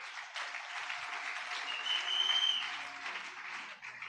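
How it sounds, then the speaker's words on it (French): A church audience applauds steadily throughout, a dense wash of clapping that swells slightly in the middle, with a few faint cheers and a brief high whistle-like tone mixed in. "Est-ce qu'on peut acclamer pour eux?"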